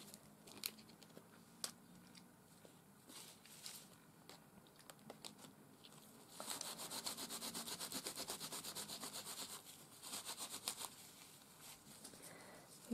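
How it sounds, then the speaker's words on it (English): A baby wipe rubbing gesso off a surface, a quiet close scrubbing and scraping that starts in scattered strokes and then becomes a busier, steady rhythmic rubbing midway. "I'm rubbing the gesso off as well."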